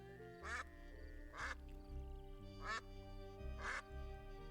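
Four evenly spaced cartoon duck quacks from the Duck Detective video game, clear and close, over a steady bed of background game music.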